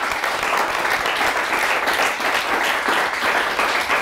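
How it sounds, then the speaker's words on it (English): Studio audience at a school quiz show applauding both competing teams, a steady, full round of clapping from a crowd, loud and sustained throughout with no voices over it. "Nice round of applause for both teams."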